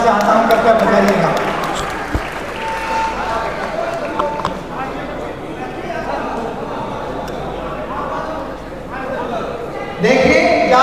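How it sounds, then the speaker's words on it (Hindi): An audience at a Jat Sevak Sangh stage event applauds, a dense continuous wash of clapping that holds steady for about ten seconds and rises again near the end. "एक बार इनके लिए भी मैं आपकी तालियां जोरदार बजवाना चाहता हूं, कृपया बजाइएगा।"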